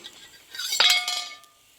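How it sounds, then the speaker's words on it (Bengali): A metal lid is lifted off a cooking pan while preparing a tiffin snack, giving a short bright clink and rattle that swells briefly and fades, with no voices. "এবার আমি এটা তুলে ঢাকাটা তুলে নেব"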